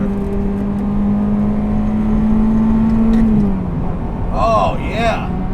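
A Ferrari F355 GTS with a manual gearbox, high-flow cats and a Capristo catback exhaust holds a loud, steady engine tone close by, then the note drops away, with a voice briefly talking near the end.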